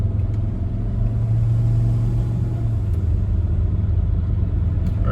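Volvo S80 sedan engine under light throttle: a steady, close low rumble and drone from the car, fairly loud and continuous with a slight rise in tone, no talking.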